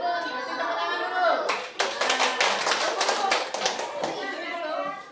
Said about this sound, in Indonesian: Bapak Ibu, kasih tepuk tangan dulu.